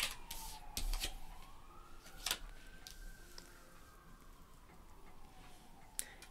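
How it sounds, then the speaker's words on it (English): A faint wailing siren rises and falls steadily in the distance, with a few sharp clicks and thumps over it and no talking. "And I hear sirens."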